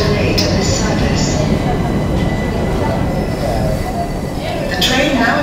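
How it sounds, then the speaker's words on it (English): A Southern passenger train rolls into a station platform at Redhill, with a loud steady rumble of wheels and carriages and occasional high metallic squeals from the brakes or rails as it arrives. "The train now approaching platform 3 is the 1310 Southern service to Horsham."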